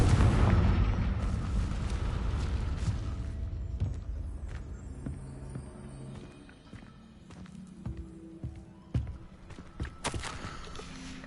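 A booming Confringo spell explosion from the Hogwarts Legacy video game opens loud and low, then rumbles and decays over several seconds, followed by scattered small pops and clatters.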